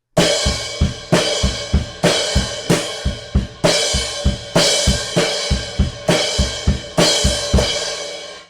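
A rock drum pattern, with snare hits and crash cymbals struck together alongside a driving kick, repeating in tight measured bars; loud, close and with no talking.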